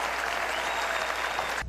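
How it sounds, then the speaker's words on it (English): A large crowd at a memorial claps and cheers in a dense, continuous wave of applause, loud and close throughout. "Governor Pat McCrory had the crowd stand and give all law enforcement a baseball cheer."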